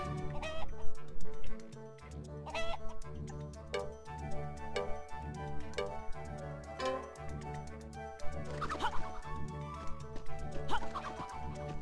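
Chickens cluck in a horse-riding management game during a mini-game of herding hens back into the henhouse, with short clucks and ticking game sounds repeating over a steady looping music track.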